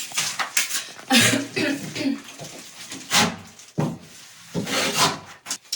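A spatula spreads tinted decorative plaster across a bathroom wall in close, rasping strokes that come in uneven bursts with short pauses between them.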